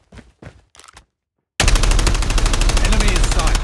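Loud, sustained automatic gunfire from COD Mobile ranked multiplayer erupts abruptly after a few short voice callouts, a dense unbroken rattle of rapid shots.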